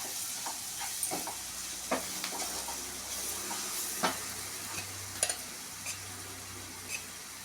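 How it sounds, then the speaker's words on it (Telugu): Chopped onions fry in hot oil for a chickpea curry, giving a soft, steady sizzle with sporadic sharp crackles and light clinks, fairly quiet and close, with no voices. "ఉల్లిగడ్డలలో ఇట్లా నూనె వేగిన తర్వాత పసుపు వేసుకోవాలి."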